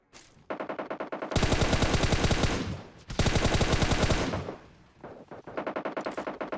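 Automatic gunfire in PUBG Mobile, heard as loud, close rapid-fire bursts: a short volley, then two long sustained sprays, then a few quicker rattling bursts, with no voices.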